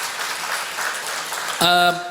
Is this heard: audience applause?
yes